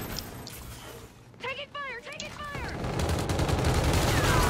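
Gunfire in the shooter Infinite Warfare, infected mode: a broad, continuous crackle of shots that swells and stays dense toward the end, with a voice's pitched shouts briefly over it.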